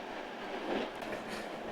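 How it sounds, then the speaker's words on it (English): Rumble of a train running on rails en route to Budapest, heard from inside the carriage as a steady low roar with faint rhythmic rattling. "We're still on a train to Budapest."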